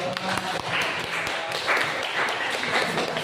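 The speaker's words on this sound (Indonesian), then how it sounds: "yang lainnya beri aplaus untuk kelompok 6" A class of students applauds a presenting group in a classroom, with scattered, moderately loud clapping running steadily throughout.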